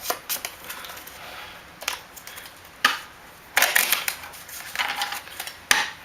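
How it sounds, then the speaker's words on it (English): A deck of ZOMBIES!!! game cards is shuffled in several quick riffling bursts, crisp and close, separated by short pauses. "Give it a good shuffle."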